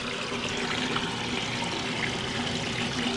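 An air pump in a bait tank, turned up high, drives a steady, fizzing stream of bubbles through tiny air stones, with constant gurgling water close by.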